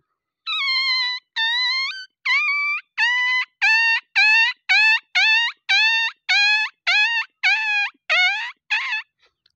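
A man vocally imitates a newborn puppy crying, producing about fourteen short, high, whiny yelps in a steady rhythm, each a clear rising-falling whimper, close and loud with no other sound.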